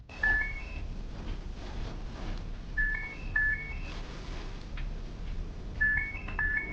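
A muffled electronic ringtone from a phone inside a suitcase repeats in short beeping phrases, faint and slightly boxed-in, against a low background hum.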